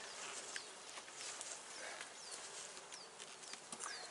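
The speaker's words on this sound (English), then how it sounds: "go into the hive here and show you some real bees" Honey bees buzz softly and continuously around a hive, with individual insects droning past now and then against a faint, steady background hum.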